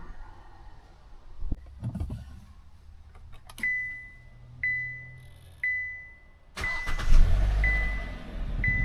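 A taxi car in Dnipro started with a portable booster: a few electronic chimes sound, then the engine cranks and catches at once, settling into a loud, close rumble.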